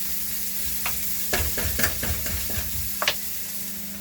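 Onions frying in an oil-slicked pan aboard a narrowboat, a steady close sizzle with a low hum beneath, broken by several clattering stirs and scrapes of a utensil in a loose, uneven rhythm.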